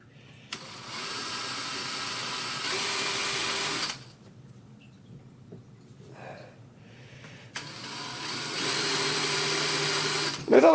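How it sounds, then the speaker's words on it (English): Two long bursts of a power drill whirring at steady speed, separated by a quiet pause with faint handling noises. "So we're just going to go ahead and drill our holes."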